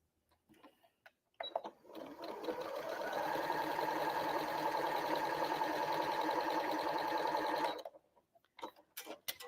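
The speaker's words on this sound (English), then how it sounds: "So again, sew down right on those lines" Close up, a sewing machine stitches quilt pieces along marked lines in one continuous run of about six seconds, a steady rapid whirring rattle, with scattered handling noises at either end.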